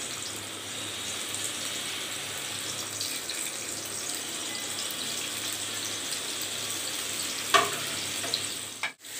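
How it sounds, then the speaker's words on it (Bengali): Hilsa fish fries in hot oil in a home kitchen, giving a steady, loud crackling sizzle throughout, with a brief clatter of a utensil near the end. "তেলটা গরম হলে মাছটা দিয়ে দেব ভাজার জন্য"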